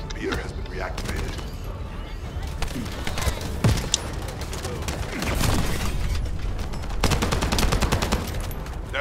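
Bursts of gunfire from a video game arrive in rapid, irregular volleys with a few heavier booms and mechanical clanks, continuous and fairly loud throughout.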